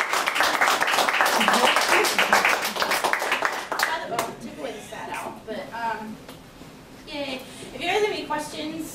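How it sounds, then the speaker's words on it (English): Audience clapping for Emma after an anthropology alumni lecture, a strong burst of applause for about four seconds that fades as a speaker starts talking over its tail. "let's have another round of applause for Emma"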